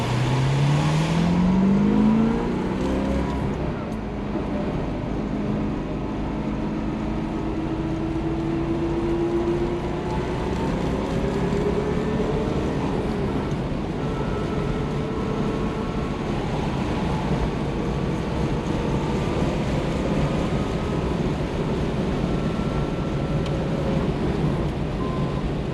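A 1964 Corvette engine driving and accelerating, its pitch climbing through the gears before settling into a steady, loud cruising drone with road and wind noise, no talking.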